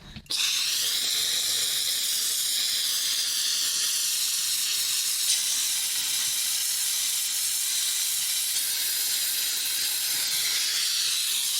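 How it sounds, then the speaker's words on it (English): A Karcher SC5 steam cleaner blasting steam onto a tap area, a loud, constant hiss bursting on at the start and holding steady to the end. "It's fully loaded, and we're going to go ahead and we'll see what we can do with this tap area."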